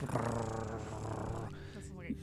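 A human voice imitates a creature's low, rumbling growl, a short guttural snarl that fades out after about a second and a half.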